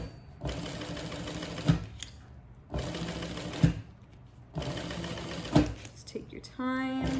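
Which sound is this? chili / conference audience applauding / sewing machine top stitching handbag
sewing machine top stitching handbag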